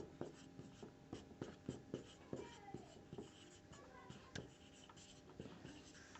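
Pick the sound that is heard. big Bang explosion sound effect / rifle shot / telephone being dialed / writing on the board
writing on the board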